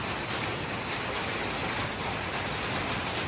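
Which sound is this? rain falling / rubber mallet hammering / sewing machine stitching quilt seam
rain falling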